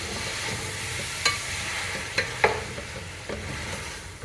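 Chopped tomatoes frying in a pan for a chicken curry, a steady soft sizzle broken by several sharp scrapes and knocks from a stirring spoon, close up with no talk.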